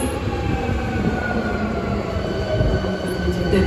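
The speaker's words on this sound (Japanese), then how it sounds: "一番線に到着の電車は準急" An Osaka Metro Sakaisuji Line train rumbles steadily along the platform at Nagahoribashi Station, with a constant loud roar of wheels and faint high squeals, no voices.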